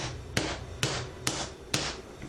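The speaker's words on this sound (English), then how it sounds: "I'm gonna take my makeshift hammer again, drive it through" A makeshift hammer drives a pin into a Rap4 RAM Desert Eagle: four hard, evenly spaced knocks about half a second apart, close and fairly loud over a steady background hiss, no speech.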